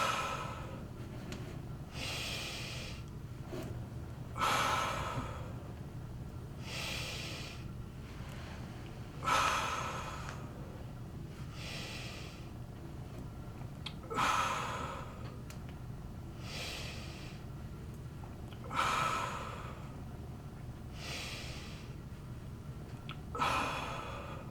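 Breathing during a yoga exercise from the Five Rites, with rhythmic audible exhalations and inhalations repeating about every five seconds, close and alone.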